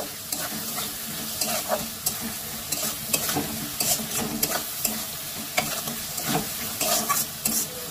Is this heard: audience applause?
no